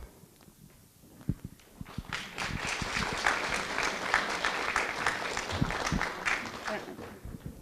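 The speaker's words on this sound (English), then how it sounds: "Thank you for clapping." Audience applause at a Kenosha Literacy Council meeting, a steady crowd of clapping that swells after a couple of seconds and holds at an even level, with scattered louder claps near the microphone.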